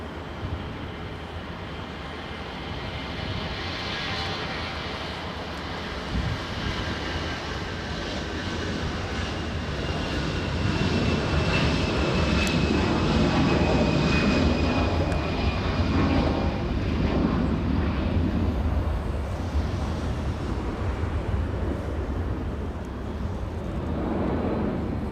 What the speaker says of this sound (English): Flying to Vancouver, our Air Canada 559.